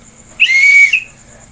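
A single loud, close whistle blast from a tour guide, one clean shrill tone lasting about half a second, with near silence before and after.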